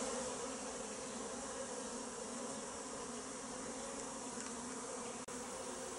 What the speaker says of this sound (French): C'est avec des abeilles en plein travail que je termine ce troisième épisode.